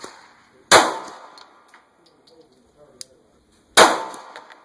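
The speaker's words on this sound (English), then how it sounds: "That's excellent shooting, Fred." Two sharp gunshots from rounds fired at a paper target during an accuracy drill on a shooting range, spaced about three seconds apart, loud and close, with quiet background and small clicks between.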